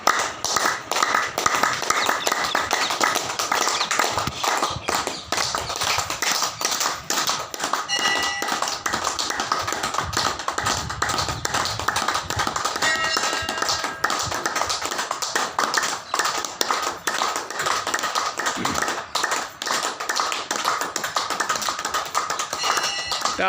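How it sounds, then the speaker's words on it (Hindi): A group of meditation practitioners clapping their hands together, a dense steady patter of many claps sustained throughout at close range, with faint voices now and then. "तालियां बजाएंगे।"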